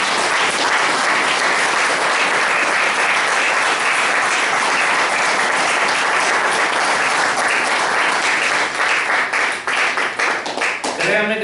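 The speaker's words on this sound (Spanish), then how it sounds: "Dale un aplauso al Señor" A church congregation applauds during a Christian sermon: loud, dense, sustained clapping that fills the whole stretch and thins slightly at the very end.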